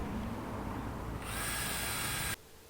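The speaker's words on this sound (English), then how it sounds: "Now I've pre-drilled the base channel every 4 inches, 100 millimeters, and I'm now just transferring those holes through to the panel itself" A power drill bores holes through a composite foam sandwich panel, guided by a pre-drilled base channel, with a loud continuous whine that rises in pitch partway through and then cuts off abruptly.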